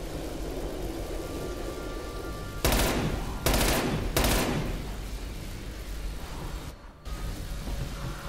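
Gunfire in Call of Duty: Black Ops Cold War, with three loud bursts of automatic fire in quick succession over a steady game background, then a brief drop to near silence.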